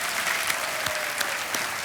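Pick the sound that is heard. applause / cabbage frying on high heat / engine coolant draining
applause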